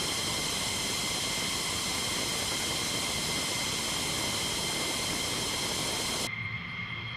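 F-16 fighter jets take off one after another with a loud, continuous roar and rushing jet noise that stays strong throughout and cuts off abruptly near the end.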